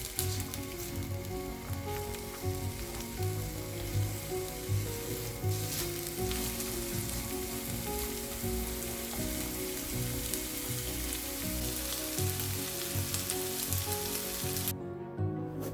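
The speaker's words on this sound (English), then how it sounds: "Add some olive oil or vegetable oil. Sauté the onion." Chopped onion sautés in olive oil in a pan, a steady close, loud sizzle and crackle of frying running throughout with occasional stirring, no voices.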